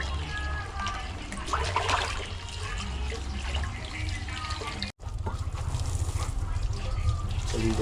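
Fresh water runs and splashes while seawater is rinsed off gear, a continuous gushing and trickling with a brief cut partway through, and voices talk faintly underneath.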